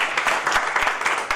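Audience applause follows four recited Urdu verses honoring Covid warriors at a televised poetry gathering, a steady dense patter of many hands clapping throughout the short stretch.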